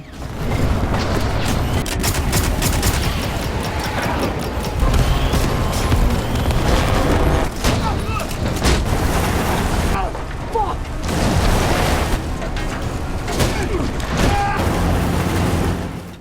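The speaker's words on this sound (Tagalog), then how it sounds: "tumigil ang makina sa paghabol at sa halip ay sunod-sunod na nagpakawala ng mga pampasabog" A rapid series of loud booms and bursts from explosives released by a war machine, back to back with rumbling mechanical noise, brief lulls between volleys.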